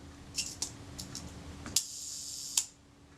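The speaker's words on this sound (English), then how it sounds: "We cock the shutter." Small mechanical clicks of a Kodak Retina IIS 35mm film camera shutter being cocked during servicing, a few light ticks followed by two sharper snaps, close and quiet.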